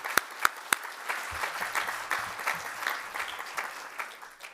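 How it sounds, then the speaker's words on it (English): Audience at the City Club in Cleveland applauds panel guests with sustained clapping from a crowd, a few loud, near claps at the start, then a steady, moderately distant roar of hands. "they need a round of applause."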